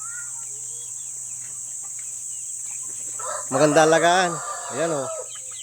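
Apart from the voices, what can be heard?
chickens clucking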